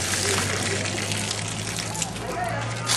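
Floodwater runs and gushes steadily beside a family in the village of Tulaele on Upolu, Samoa, a broad continuous wash of sound from start to finish with a low hum underneath.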